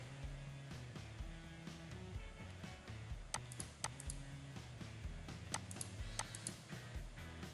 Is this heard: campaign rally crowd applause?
no